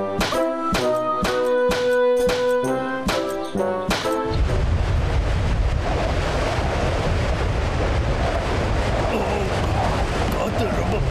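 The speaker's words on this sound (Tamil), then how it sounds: "காத்து ரொம்ப பலமா வீசுது." Strong wind blows in a cartoon scene after a burst of rhythmic music, turning into a loud, continuous whooshing rush that carries on to the end.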